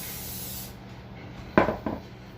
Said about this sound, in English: Liberally spray the inside of each cast iron little skillet.